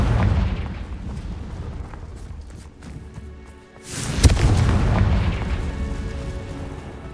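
A Confringo spell in the Hogwarts Legacy video game sets off a sharp, loud explosion midway through. A deep rumbling boom follows and fades slowly, after fainter rumbling blasts earlier in the clip.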